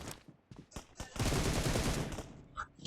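Gunfire in the mobile battle royale game BGMI rings out as a few sharp single shots followed by a sustained rattling burst of rapid automatic fire, loud and close, with a voice talking faintly underneath.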